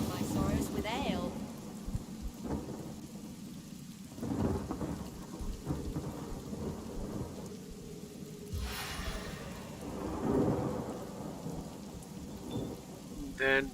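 Rain and thunder spell in the fantasy role-playing game Divinity: Original Sin, a steady hiss of rainfall with rolling thunder rumbles swelling and fading, with voices talking over it at times.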